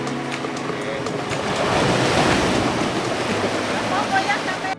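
Sea waves wash steadily onto the coast at Gumuk Kantong, Muncar, Banyuwangi, a continuous broad surf roar with wind noise, holding fairly loud throughout.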